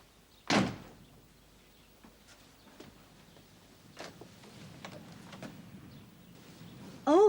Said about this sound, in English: Elizabeth, the door.